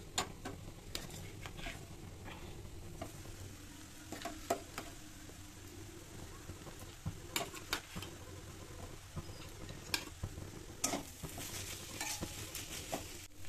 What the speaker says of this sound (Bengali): এরপর এটা লাল লাল করে এরকমভাবে মাখা মাখা করে ভালো ভাজা হয়ে আসলে